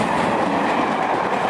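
A train rushes past Patricroft Station in a loud, steady roar of wheels and rails, close by and unbroken, with no voices.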